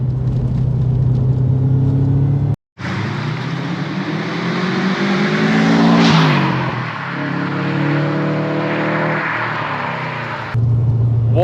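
Subaru Impreza WRX GF8 estate, an AWD Japanese modern classic, driving along bumpy, potholed forest roads, its engine note rising and falling steadily close by with a loud, continuous rumble and no talk over it.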